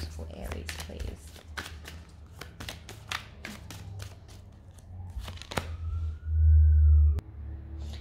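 Brisk riffling snaps of a tarot deck being shuffled, repeated in quick bursts up close, followed by a brief louder rumble near the end.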